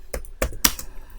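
Three quick, crisp key presses on a computer keyboard, with a short pause between each, typed close up in a quiet room.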